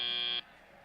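A loud, steady electronic buzzer marks the end of a robotics competition match, a single tonal blast lasting under half a second before it cuts off abruptly into quieter arena noise.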